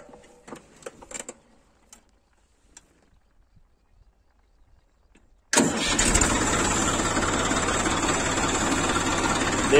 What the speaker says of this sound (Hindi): देखिए, हम लोग सेकंड के हाई गियर में ट्रैक्टर को चलाएंगे